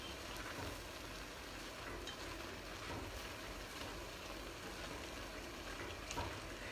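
Rhubarb chutney simmers in a pot, giving a faint, steady low bubbling and hiss that runs unbroken throughout with no voices.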